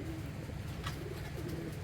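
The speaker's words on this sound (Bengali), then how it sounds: "আমার হাতে একটা কবুতর দেখতে পাচ্ছেন, জেনসনের একটা কবুতর, ব্ল্যাক চেকার।" A black checker racing pigeon of the Jensen line coos softly and close by, a low repeated throaty murmur held in hand, with faint room noise behind.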